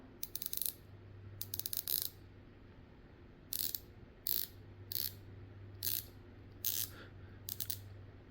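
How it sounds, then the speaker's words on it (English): A San Martin watch's 120-click unidirectional ceramic bezel is turned in short spurts, each giving a rapid run of crisp, fine ratcheting clicks, separated by quiet pauses with a faint low hum underneath. "Both bezels are 120 click ceramic unidirectional bezels."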